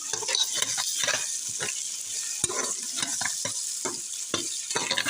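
Rice with raisins frying in a pot as tomatoes are stirred in. A steady close sizzle runs throughout, broken by repeated scraping stirs, with no talking.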